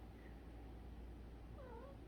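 A cat gives a couple of faint, short meows over a steady background hum indoors.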